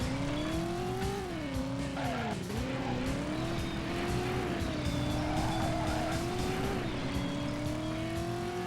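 A car in the PS1 game Driver revs loudly throughout, its engine pitch climbing and dipping with steady tire squeal and skidding noise, rough and continuous, and no separate crash impact stands out.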